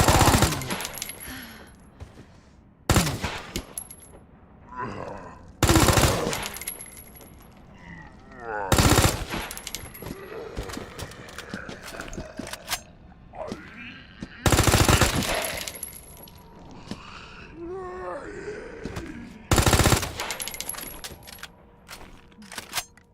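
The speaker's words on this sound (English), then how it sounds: "Well, those bullets went all over the place." Gunfire in Resident Evil 2: a string of loud, separate blasts spread across the stretch, each sharp and percussive, with quieter in-game sound and background noise between the shots.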